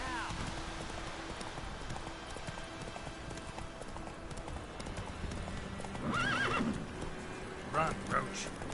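Roach, the horse in The Witcher 3, galloping with rapid hoofbeats and then whinnying loudly twice near the end, while a person talks over the scene.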